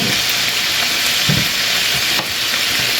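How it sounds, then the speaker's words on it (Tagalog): Pork binagoongan with sitaw being stir-fried in a pan, giving a steady loud sizzle with soft scraping stirs throughout, no voices. "Stir fry again."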